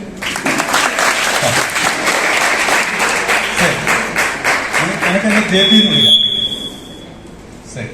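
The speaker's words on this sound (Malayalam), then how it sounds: "ഒന്ന് കൈയടിച്ചാൽ" An audience at a Lions Club career guidance class bursts into loud, sustained clapping for several seconds, then the applause tapers off, with a brief high electronic tone near the end.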